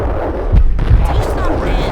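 Heavy gunshots in the action game Max Payne, two booming low blasts close together over a dense rumbling mix, with voices speaking around them.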